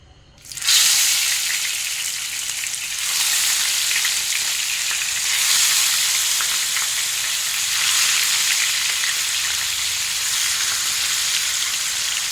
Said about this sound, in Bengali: তেলটা গরম হয়ে গেছে, এবার আমি মাছগুলো একটা একটা করে দিয়ে দেবো।